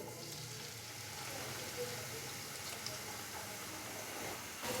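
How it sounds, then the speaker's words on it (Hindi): Chopped onions sizzle in hot oil in a pan, a steady, fairly quiet broadband hiss of frying that continues throughout with no speech. "अभी मैं इसके अंदर चॉप किया हुआ प्याज डालूंगा।"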